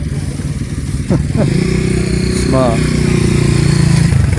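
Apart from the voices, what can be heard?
motorcycles revving at Honda Cub rally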